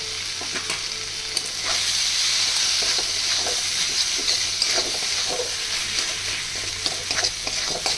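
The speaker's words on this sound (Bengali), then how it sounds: "এবারে যে আলু দুটো সেদ্ধ রেখেছিলাম সেটাকে ম্যাশ করে দিয়ে দেব।" Boiled potatoes mashed into frying masala in a pan: a constant bright sizzle and hiss with scattered soft scraping strokes, close and steady, without voices.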